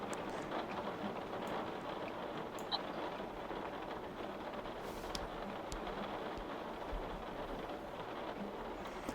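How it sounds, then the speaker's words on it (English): Heavy rain in a video game downpour scene, a dense steady hiss of rainfall with faint scattered drips and a low rumble underneath, constant throughout with no voices. "The sound of the absolute downpour outside kept me awake."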